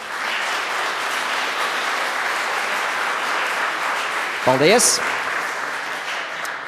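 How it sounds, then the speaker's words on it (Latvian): An audience at a teachers' excellence award ceremony applauds the jury members with sustained, steady clapping, and a voice speaks briefly over it near the end. "es domāju, vētraini aplausi žūrijas pārstāvjiem"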